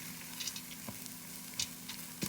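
Spices sizzling in a hot pan for a farro casserole, a soft, steady frying hiss with small pops and crackles close by, fairly quiet and with nobody talking.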